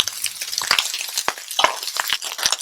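Shrimp fried rice frying in a pan, a loud, continuous sizzle with scraping stirs and sharp clicks of the utensil against the pan.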